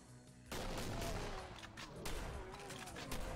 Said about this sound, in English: I know the handgun is very loud.